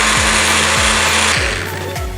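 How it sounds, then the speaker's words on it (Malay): Kitchen blender whirring as it purées a tomato and spice mixture for Arabian mandy rice, a loud steady motor drone with repeated pitch dips as the load shifts, running alone without talk. "Lepas tu kita blender."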